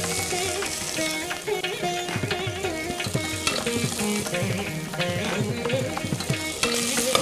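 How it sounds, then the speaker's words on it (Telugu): Chopped onions and green chillies fry in a pan while being stirred, a constant close sizzle broken by irregular scraping and clinking strokes of the spoon. "బాగా ఫ్రై అయ్యేలాగా మిక్స్ చేసుకోండి."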